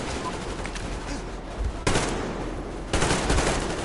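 Sustained covering gunfire in Metro Exodus, loud dense bursts of automatic weapons firing close by with sharp louder volleys breaking in, and voices faintly under the shooting.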